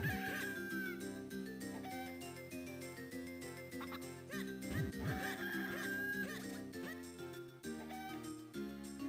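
Cuckoo chickens cluck in the Zelda game Minish Cap, small bird-like calls scattered over continuous game music with chiming tones throughout.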